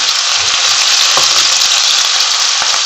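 Carrots frying in a pan for broccoli vegetable sauce, a loud steady sizzle close by, broken by a few faint clicks and scrapes of stirring, with no talking.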